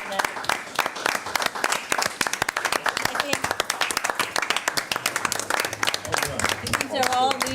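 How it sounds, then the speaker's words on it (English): Sustained clapping from an audience at a high school committee meeting, honoring students in the evening; dense, steady applause fills the room close by, with a voice briefly heard near the end. "I just want to give a round of applause for all of our students here tonight"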